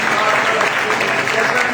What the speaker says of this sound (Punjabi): ਤਾਲੀਆਂ ਵਜਾਓ ਇਸ ਵਚਨ ਦੀ